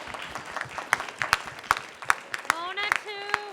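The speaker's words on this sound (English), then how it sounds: "I feel like they deserve a round of applause" A room of attendees at a university student government general body meeting claps in a round of applause, with sharp individual claps standing out over the crowd and a voice speaking near the end.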